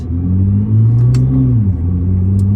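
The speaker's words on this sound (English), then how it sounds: "you can hear the transmission shifting nicely in this video" A Nissan GT-R is driven on the road and heard from inside the cabin. The low engine drone holds steady, dips briefly in pitch as the transmission shifts gear, then carries on smoothly.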